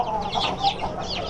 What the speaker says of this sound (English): this is my WD hen